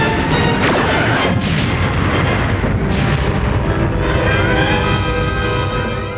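Starship torpedoes fire in Star Trek: The Next Generation, a loud sustained rushing blast with booming impacts and a sweeping tonal whine, no voices over it.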